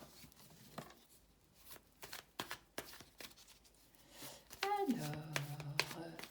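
Playing cards are shuffled and drawn from a deck, with soft sporadic flicks and slaps close by, followed by a short rising hum, all quiet and intimate.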